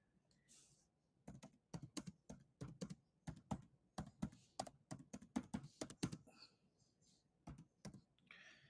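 Rapid bursts of typing on a computer keyboard, close and fairly loud, in irregular clusters of quick clacks with short pauses between runs, with no voices over it.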